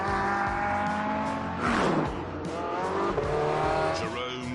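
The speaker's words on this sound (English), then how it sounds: "Jerome took the cars out to get a sense of how they handled." Race cars in The Grand Tour video game, driven by former Formula One and Formula E driver Jerome D'Ambrosio: a steady, loud engine drone with squealing tires mid-run and shifting revs throughout.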